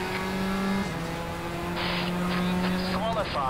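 A race car engine in the RACE07 sim game, driving the WTCC Valencia circuit, hums and drones steadily with a constant tonal note that shifts pitch slightly, while someone talks over it.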